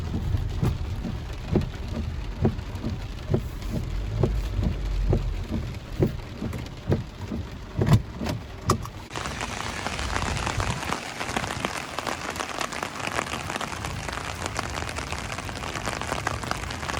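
Steady rain falls through the night in Northlake, a broad continuous hiss that grows denser and louder partway through, with scattered heavier drops and thumps in the first half; no one speaks.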